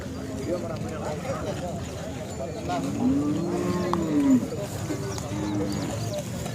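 A Khillar bull moos once in a long, low call amid a busy outdoor cattle market crowd in Sangola, with murmuring voices and general background bustle.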